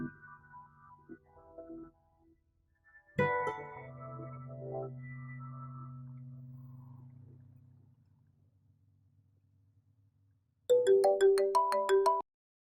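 A telephone ringtone bursts out loud and close near the end as a short, bright electronic melody, following a quieter stretch of tones.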